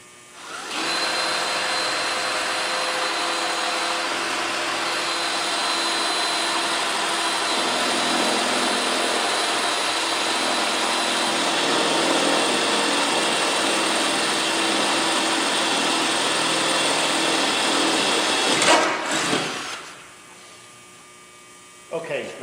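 A power drill bores holes through metal braces for a car rear wing, a steady loud whining hum running unbroken for nearly twenty seconds before it winds down, then near silence.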